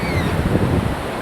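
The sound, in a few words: strong ocean waves at St. Mary's Island beach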